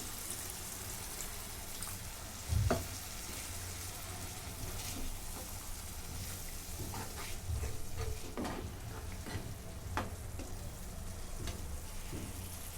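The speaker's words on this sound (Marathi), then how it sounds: "आता थोडंसं पाणी ओतून घेते" Water poured into egg masala frying in a pan on a low flame raises a steady soft sizzle, with a thump early on and scattered light clicks of a spoon stirring through it, close up and without speech.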